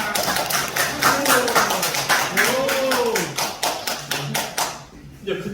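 An audience at a talk with a professor claps in steady, dense applause lasting several seconds before fading out. Voices cheer and exclaim over the clapping.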